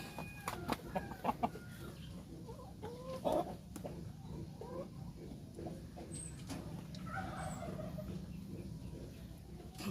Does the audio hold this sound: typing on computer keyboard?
no